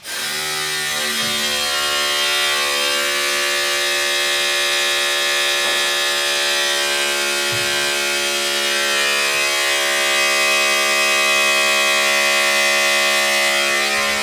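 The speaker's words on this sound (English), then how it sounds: "There you go. She's moving. Can't take it too high because it's roof, but there you go. Electronic cab tilt." Electric cab tilt motor on a truck raising the cab, a steady loud motor whine and buzz holding constant throughout with a slight rise in pitch.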